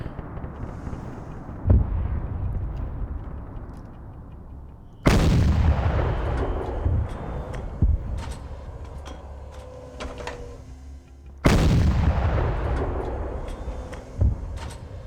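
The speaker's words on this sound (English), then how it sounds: "There we go, now all my tanks are starting to fire" Tank cannons fire in a video game battle: three loud, heavy booms, each followed by a long rumbling decay, with sharp smaller reports scattered between them.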